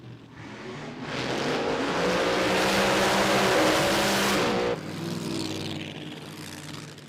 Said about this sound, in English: We can hear the supercharger on the red altered coming through.